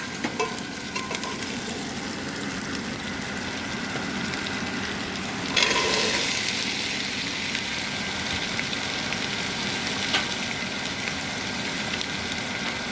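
Onions sautéing in a pan for Turkish bean stew, a steady close sizzle throughout with a brief louder stir in the middle.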